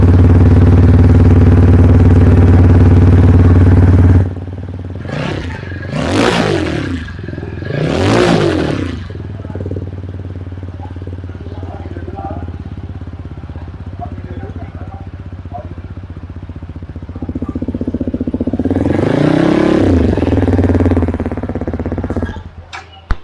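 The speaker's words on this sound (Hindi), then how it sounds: "So let's hear the exhaust sound of this bike." A TVS Apache RTR 200 4V motorcycle idles with a throbbing exhaust, then the throttle is blipped in two sharp revs, followed by a longer rising rev later, close and loud.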